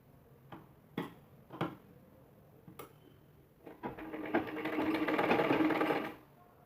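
Sewing machine running a seam to attach piping strip on a blouse: a few sharp clicks, then a steady close mechanical whirring burst of stitching for about two seconds before stopping.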